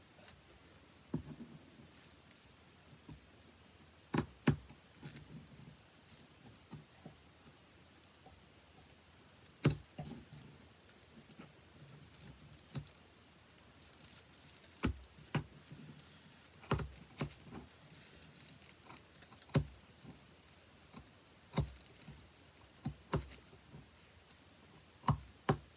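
A fabric blouse piece being cut out by hand: quiet, sporadic sharp snips and clicks close by, irregularly spaced over a soft background, with no one speaking.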